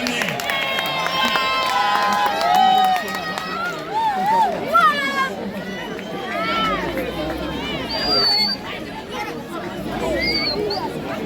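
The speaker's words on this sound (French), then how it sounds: "On continue à acclamer notre hôte." A crowd at a school bench donation ceremony cheers and calls out in a lively babble of many voices, with shrill shouts and whistles rising above the sustained noise.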